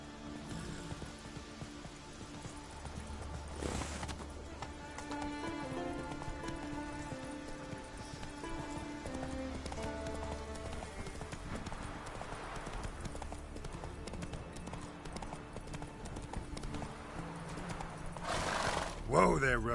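The horse Roach gallops in a video game, its hooves clip-clopping rhythmically over a wet, rainy background, with a neigh near the end and a voice speaking over it.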